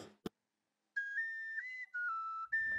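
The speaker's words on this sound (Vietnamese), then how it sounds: "Để cho ra được thanh âm của tiếng sáo từ lỗ mũi, trước tiên anh Tài lấy một lực hơi thật mạnh" A man blows a flute-like whistling melody through his nose, sustained clear tones sliding between pitches in several held phrases, preceded by a short sharp breath and ending with a noisy exhale.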